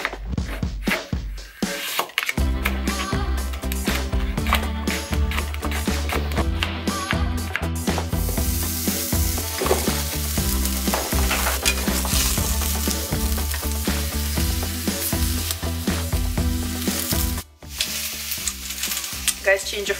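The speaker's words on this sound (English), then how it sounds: "It is now time for lunch, and I will be cooking some courgette with some pesto and the pate." Chunks of courgette frying in a hot pan, a loud continuous sizzle and crackle close by with occasional stirring taps, no talk over it.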